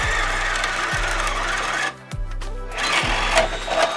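A Ridgid subcompact cordless drill bores a 3/4 inch hole, loud motor whirring in repeated pulses with a short pause midway as the bit grinds through the material.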